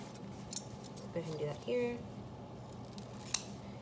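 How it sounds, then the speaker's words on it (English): Scissors snip through a sheet of EVA foam for a costume headpiece repair, with a few faint, sharp clicks and soft crunches heard close by under quiet talking. "you're going to take your scissors and you're going to cut a piece of Eva Foam"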